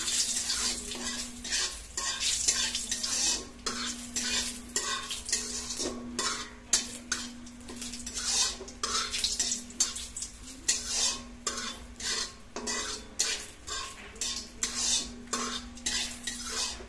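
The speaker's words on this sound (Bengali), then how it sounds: "জিরে তেজপাতাটা ভালো করে তেলে একটু পুড়িয়ে নিলাম।" Cumin seeds and bay leaves frying in oil, a soft steady sizzle under repeated clinks and scrapes of a spoon stirring in the pan, with a faint constant hum behind.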